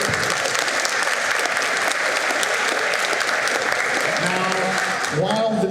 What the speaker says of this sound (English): Round of applause for the Gundam team.